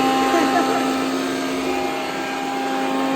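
A kitchen mixer grinder with direct button control running loud and close, a constant high motor whine and whirr that holds steady throughout.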